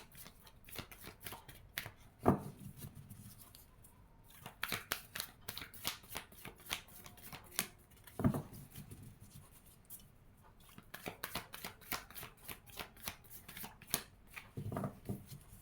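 Tarot cards being shuffled by hand at close range, quiet riffling bursts and soft flicks in irregular runs, with a few louder slaps as the deck is squared, separated by short pauses.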